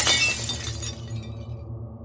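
Glass windows shatter in one loud, sharp crash that rings briefly with tinkling shards and then decays into a low lingering hum.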